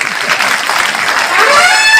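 Loud applause from an audience, dense clapping that swells slightly toward the end.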